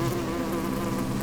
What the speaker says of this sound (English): Thousands of bees working in perfect harmony until there is a threat from the outside.